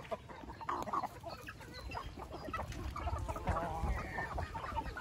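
Native chickens cluck in a farm pen area, a steady mix of overlapping clucks and calls from several birds at close to medium range, with no talk over them.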